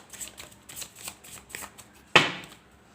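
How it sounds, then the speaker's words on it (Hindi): Tarot cards being shuffled, a series of soft, quick riffling flutters in a quiet room, ending in one sharper card slap near the end. "Last shuffle."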